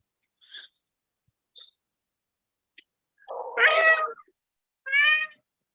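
A person imitates a cat, producing several short meow-like calls followed by a longer, wavering yowl and a final meow, isolated against a quiet background.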